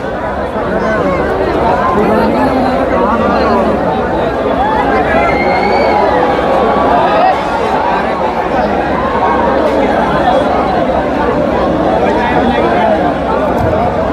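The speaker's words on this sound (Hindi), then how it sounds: "पूरा भीड़ है, पूरा हुजूम है।" A large outdoor crowd packs the ground around a helipad in Paharpur, East Champaran, waiting for Pawan Singh at an election rally; a dense, steady babble of many voices carries throughout.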